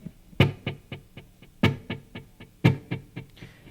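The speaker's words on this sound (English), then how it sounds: "it's going into a Visual Sound dual tap delay, actually just a single tap delay, which just has a little bit of effect in there." Electric guitar run through a Visual Sound single tap delay pedal, a series of plucked notes and strums in an uneven rhythm, each followed by short decaying repeats, fairly quiet and alone.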